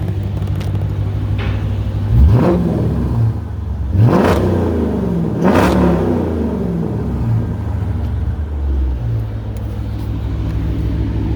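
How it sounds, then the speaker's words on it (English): Dodge Challenger RT with a six-speed manual, its engine rumbling at idle and revving up loudly three times in sharp, throaty bursts before settling back. "Real nice throaty sound."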